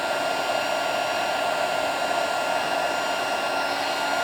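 A crafting heat tool blows a steady, loud, close whir while melting embossing powder on papercraft, with no talking.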